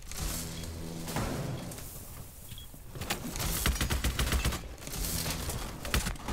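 Gunfire in a tactical shooter match of Rainbow Six Siege, with a few sharp shotgun-like bursts and loud blasts scattered through a busy, noisy stretch of in-game combat sound.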